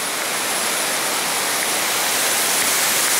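Steady, loud broadband rush of rain falling on the trail to a waterfall in Laos, a continuous hiss with no breaks or voices.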